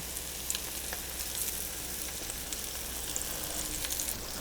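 A tofu patty fries in a pan with a tablespoon or two of oil, giving a steady, close, even sizzle with small crackling pops and no talking.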